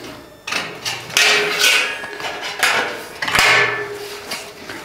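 A plasterboard drywall panel is cut shorter during a ceiling installation, giving several rough rasping, scraping strokes and one sharp knock, loud and close with no speech.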